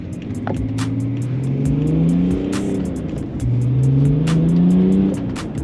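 A BMW E60 diesel engine revs up loudly twice, its pitch rising and falling in smooth sweeps, with steady mechanical rumble and faint ticking throughout.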